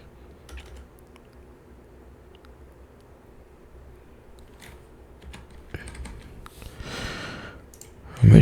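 Rapid, light clicks of fingers typing on a computer keyboard patter irregularly at close range, followed by a brief louder rustle and a thump at the end.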